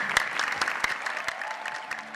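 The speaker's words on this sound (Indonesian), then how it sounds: "Tepuk tangan untuk Bapak Ambono." Applause from an audience at a Persija Jakarta football club event, welcoming its director, steady dense clapping with a few sharper claps standing out, continuous for the short stretch.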